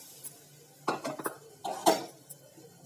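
Small metal cooking pot and utensils clanking and clinking together in a kitchen, a few distinct knocks and scrapes close by against quiet background.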